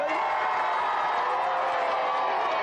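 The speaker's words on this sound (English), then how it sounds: "Give a big round of applause for this team, RCC." Studio audience at a 1993/1994 Gamesmaster Team Championship taping applauding and cheering for a team, a steady dense wash of clapping with whoops, loud and continuous throughout.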